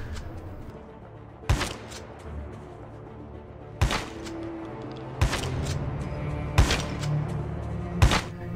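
Shotgun blasts from Call of Duty Mobile target practice crack out five times at irregular intervals of one to two seconds, sharp and loud over a steady low in-game hum.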